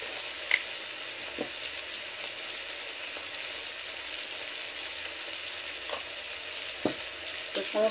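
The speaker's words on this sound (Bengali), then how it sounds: "তো সমস্ত মশলা টমেটোর সাথে ভালো করে কষিয়ে নেব।" Spices and tomato sauté in a pan for mixed vegetable dal, a steady soft sizzle with a few faint scraping stirs, no voices.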